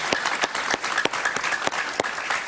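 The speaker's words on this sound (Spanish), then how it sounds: "Un aplauso para ella, por favor." A Colombian senator, María Fernanda Cabal, is welcomed by a TV studio audience with steady, close applause, dense clapping with a few sharper claps standing out.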